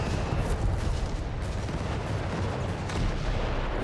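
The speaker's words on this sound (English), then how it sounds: "Mortar fire here and hard to fire there, pummeling the southern positions here." Mortar and artillery fire rumble in a Company of Heroes 3 battle, a dense, continuous roar of distant blasts and gunfire with a few sharper thumps standing out, loud and unbroken, with no voices.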